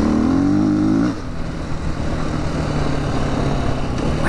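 Engine of a 2016 Husqvarna FE 501 S dirt bike under way, loud and rising in pitch, then it drops off to a lower, rougher running note after about a second.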